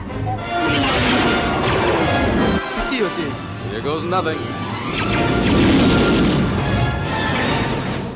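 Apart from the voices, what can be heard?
TIE fighters crashing in a Star Wars video game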